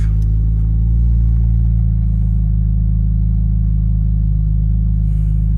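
Porsche 996 Turbo engine idling steadily with a deep low rumble, holding a constant drone throughout and settling slightly higher in pitch after the air conditioning switches off.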